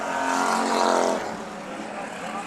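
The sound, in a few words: topless modified race cars racing at Bakersfield Speedway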